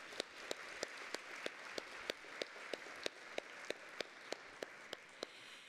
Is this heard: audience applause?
yes